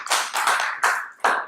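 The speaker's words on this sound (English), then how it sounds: "So I want to give everybody an applause." A few loose, uneven bursts of hand clapping from a small group, coming in short separate waves rather than a sustained ovation.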